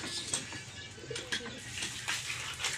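Racing pigeons coo softly in a loft, low repeated murmurs with a few brief chirps and rustles close by, no talk over them.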